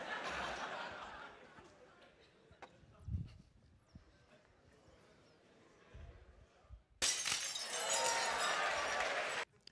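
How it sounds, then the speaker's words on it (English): Glass shatters during a physics lecture demonstration in a large hall: a sudden loud, bright crash breaks out late and rings on as a dense burst, after a stretch of quieter room noise and scattered bumps. "Students love it when the glass breaks."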